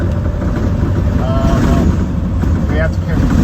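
Ford E450 4x4 adventure truck with a 7.3L Powerstroke diesel, climbing a washboard mountain road, giving a constant loud rumble with rattling and vibration throughout and a voice faintly speaking over it.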